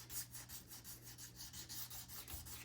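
Wet sandpaper is rubbed over an acoustic guitar's finish in quick, rhythmic back-and-forth strokes, faint and close, with no voices.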